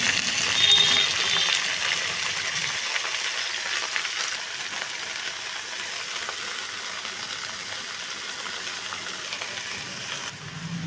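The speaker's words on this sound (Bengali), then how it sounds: "ফোড়নের সুন্দর ভাজা গন্ধ বের হলে দেব কেটে রাখা শাকগুলো।" Red amaranth greens fry in oil tempered with whole spices, giving a soft, steady sizzle and hiss that stays even and fairly faint throughout, with no voices.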